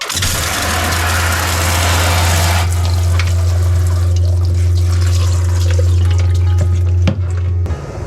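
Loud rushing water from a shower head pouring into a washing machine drum loaded with dark jeans aboard a sailing boat, with a steady low motor hum underneath, continuous and close.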